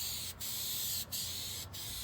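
Spray gun hisses out a heavy coat of patina paint onto a vehicle panel in three steady bursts, each broken by a brief pause, a close, airy rush with no talking.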